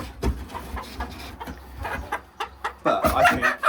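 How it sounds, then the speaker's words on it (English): A small young silver Campine hen clucks repeatedly and close by in a backyard chicken coop, with other flock birds adding scattered calls and rustling around her. "This is a silver campine. She's very small, but she won't actually be our smallest bird in the group."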